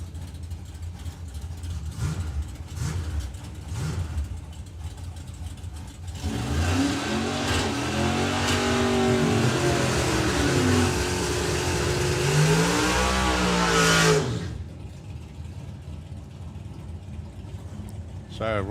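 Doorslammer drag cars launch down a drag strip, swelling into a long, loud, harmonic engine roar for several seconds before dropping away, with an announcer talking over the quieter stretches before and after.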